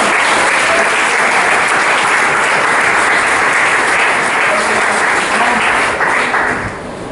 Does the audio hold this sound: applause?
yes